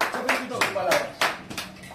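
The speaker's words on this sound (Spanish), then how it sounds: "¡Un aplauso para Juan Ramón!" A small group claps for Juan Ramón in a television interview studio, a few scattered, fairly close handclaps with uneven rhythm rather than a full ovation.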